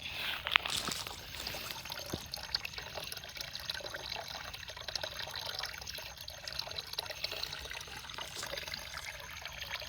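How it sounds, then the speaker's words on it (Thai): Water released outdoors among wildflowers, flowing and trickling steadily at moderate distance, a continuous watery rush with a few brighter splashes near the start. "อันนี้เป็นการปล่อยน้ำ"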